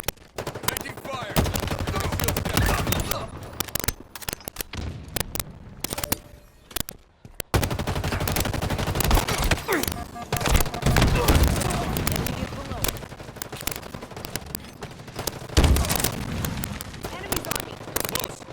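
Video game gunfire in dense rapid bursts, loud and close, with a brief lull near the middle before the shooting resumes, mixed with game voices and effects.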